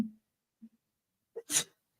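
A single sneeze, brief and fairly loud, preceded by a faint sharp intake of breath, with near silence around it.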